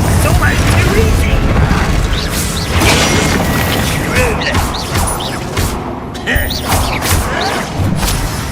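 Blasts of a Confringo explosion spell tear through a Hogwarts Legacy battle on hard difficulty, a dense, loud run of booms, crashes and crunching impacts that rolls on steadily with barely a pause.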